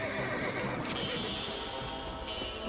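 A horse whinnies in Red Dead Redemption Remastered, a loud neigh over a steady wash of game ambience, with a few hoof clops mixed in.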